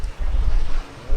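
Wind gusting across an outdoor microphone on a Scottish shore, a low rumbling buffet that swells, eases briefly and surges again.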